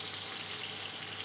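Bacon sizzles and crackles in a pan as it crisps to golden. The frying hiss is steady and dense, close and alone, with no talk over it.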